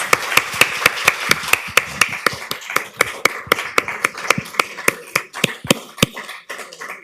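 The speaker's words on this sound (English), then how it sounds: "Please give a round of applause to our poets." Applause for poets at a poetry reading, sharp distinct hand claps from a small audience at a brisk, fairly regular rhythm, close and alone without talk.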